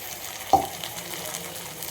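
Onion frying in a pan as ginger paste goes in, a steady sizzle with one sharp splash or clank near the start, close and fairly quiet.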